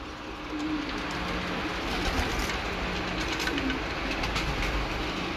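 Soft, steady pigeon cooing sits under a broad, continuous rumbling background noise, with no voices.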